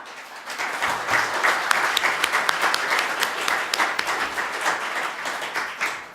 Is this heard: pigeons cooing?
no